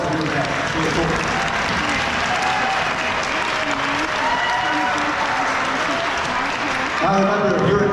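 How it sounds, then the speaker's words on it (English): An audience at a fourth grade school music program applauds the young recorder players with a thick, steady wash of clapping, and voices murmur underneath it throughout. "Give them a big round of applause for doing that."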